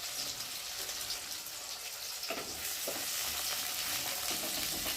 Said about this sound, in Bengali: আর এখন আমি পেঁয়াজগুলোকে দিয়ে ভালো করে ভেজে নেব।